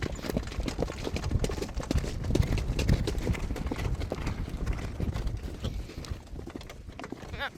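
A racehorse sets off on a training track with steady, dense hoof clip-clop close by. The beats are uneven, as if the horse has not yet settled into a canter, with faint wind noise and no clear speech.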